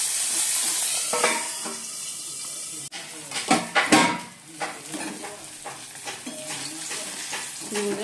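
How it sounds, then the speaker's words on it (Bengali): Fish frying in a small amount of oil gives a steady sizzle, with stirring and clattering bursts around the middle and a voice faintly present in the background. "এখানে অল্প তেলেই ভাজবো।"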